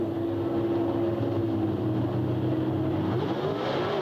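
Drag racing cars at a winter nationals event rumble and rev in a steady, loud, continuous engine roar, with tonal bands shifting near the end as they launch down the quarter-mile strip.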